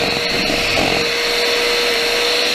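A Pip hand mixer whirs at its fourth speed setting, producing a steady, loud motor whine that holds constant throughout, close up with no voices.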